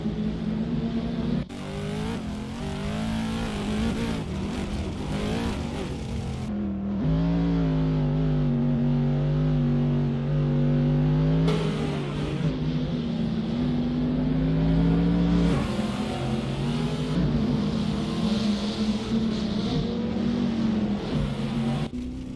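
Chevrolet race cars in a racing video game, engines droning and revving loudly and continuously, pitch rising and falling through gear changes as cars pass and accelerate, with no talk.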